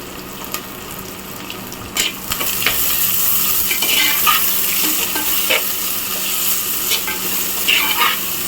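Sliced onions hit hot oil with fried garlic for a sankara fish curry, giving a continuous bright sizzle broken by scraping stirs and occasional clinks of a spoon against the pan.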